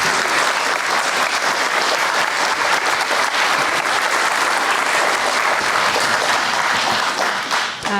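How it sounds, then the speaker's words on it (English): Dense, sustained applause from an audience honoring the speakers at a dialogue event on methodologies of care, loud and continuous throughout with no talking, tapering slightly only at the very end. "Let's have a round of applause for our speakers."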